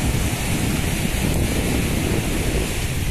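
Sea waves surging onto Candeias beach near Recife, Pernambuco, with the water running high: a steady, loud, broadband wash of surf with wind rumble, continuous with no distinct breaks.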